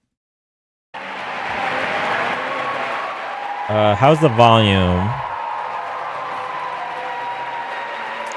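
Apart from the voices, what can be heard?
audience applause and clapping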